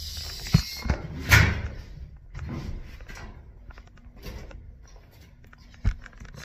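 Two sets of doors in a college dorm building are pushed open. Sharp clunks and latch rattles sit up front, followed by softer handling noises and a last thud, nearby, with no talking.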